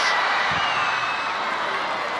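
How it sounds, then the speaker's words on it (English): Football crowd at a Wales v Kosovo women's Euro 2025 qualifier cheering in a steady, broad roar that holds throughout, with no voices speaking over it. "Well, the crowd enjoyed that one."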